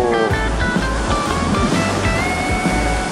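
Continuous roar of ocean surf breaking on a Sea of Japan beach, loud and close, with steady wash and wind noise throughout and no speech.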